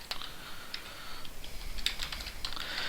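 Rapid, fairly quiet keystrokes on a computer keyboard while new account contact information is entered, clicking along in an irregular rhythm with no talking.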